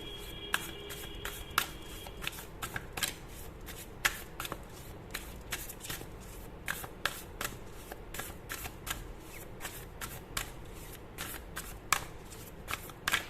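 A deck of tarot cards being shuffled and drawn, with a dense run of crisp card flicks and snaps at a quick, uneven pace, close and fairly quiet with no voices.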